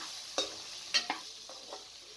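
Capsicum and potatoes frying in a keema pulao pot, stirred with a few spaced scraping strokes over a soft steady sizzle, close and fairly quiet.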